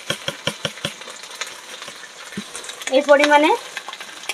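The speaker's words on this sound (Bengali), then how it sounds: "ভালো করে নেড়ে নেবো" A spoon scrapes and stirs khichuri cooked in mustard oil with sugar just added to the pan, with quick rhythmic strokes first, then slower ones, and a short spoken phrase partway through.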